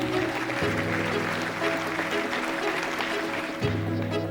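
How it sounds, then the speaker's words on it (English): Audience applause at a corporate event, a sustained wash of clapping from a crowd, moderately distant, steady over a low hum. "a round of applause for Akeem Lawal"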